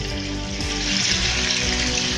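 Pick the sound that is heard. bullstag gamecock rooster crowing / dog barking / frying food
frying food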